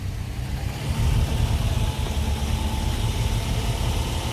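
A 2011 Subaru Outback's 4-cylinder engine runs steadily and swells with light throttle, a close, continuous mechanical drone with no voices.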